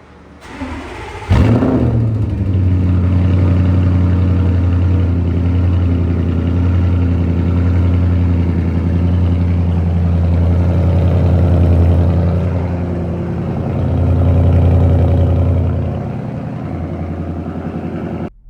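A 650 hp Audi engine with a straight-pipe exhaust cranks and catches, then settles into a loud, steady rumble with a couple of swells as it revs higher, close by.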